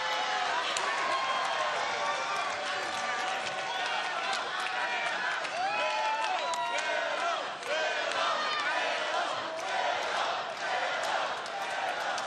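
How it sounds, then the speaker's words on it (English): Crowd at a live AEW Dynamite wrestling broadcast chanting for a woman wrestler from New York, a dense, steady roar of many voices with rhythmic shouts rising and falling throughout, loud and close. "These people here chanting for a girl from New York"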